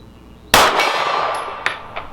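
A pistol round from an S&W M&P 2.0 Compact fitted with a red dot, fired at 50 yards, strikes a steel gong. It makes a sharp, loud metallic clang with a long ringing decay, and fainter ticks follow. There is no talk.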